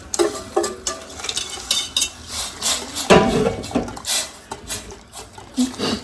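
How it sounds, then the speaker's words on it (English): Onion mixture tipped into a pot of Outback-style walkabout onion soup, with metal utensil scrapes, clinks and stirring against the pot rising to a louder burst midway, steady kitchen clatter throughout. "now we are going to add the onion mixture to it"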